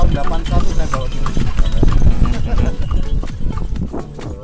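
Horse hooves clip-clopping on a horse cart ride at Borobudur, a brisk steady trot of close, repeated hoof strikes with cart rattle, under people talking nearby.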